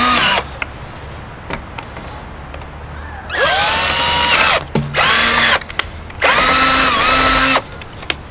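A power drill bores a hole for a homemade deer feeder, whining up in three loud sustained runs with short breaks between them. Small clicks and taps come before the drilling.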